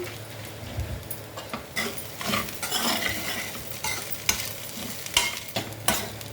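Cooked rice with tamarind pickle is stirred and fried in a pan, with busy scraping and tossing strokes over a steady, moderately loud sizzle.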